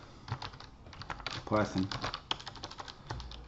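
Quiet clicking of keys on a computer keyboard while writing Python code, a loose run of soft taps with a brief denser burst, heard beneath a man's speech.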